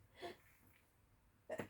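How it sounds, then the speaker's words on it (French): A single short sneeze, sharp and close, comes near the end, preceded by a soft breathy intake and brief quiet. "Et j'ai envie d'éternuer."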